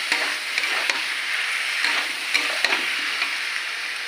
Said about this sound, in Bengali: একটু কষে নিই ভালো করে